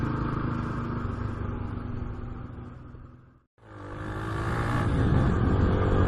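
A car setting off on a trial run of new tires, its engine rumbling steadily, fading briefly to near silence, then rising again as it accelerates and pulls away, fairly close and without talk.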